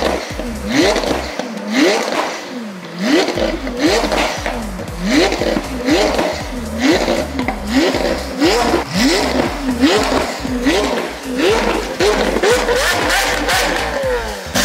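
A Lamborghini Aventador SV creeps onto a trailer, its engine blipping in loud repeated revs that rise and fall in a steady rhythm, with scraping, sitting close over about fifteen seconds.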